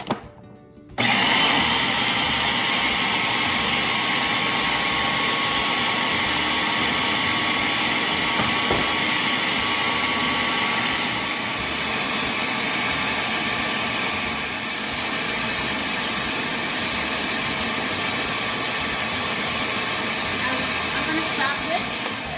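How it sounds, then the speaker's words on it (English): A food processor grinds a falafel mixture with curly parsley and herbs, whirring loudly and continuously after a brief start, with a steady motor drone that barely varies for the whole stretch. "I'm gonna mix it, and so that will grind all over."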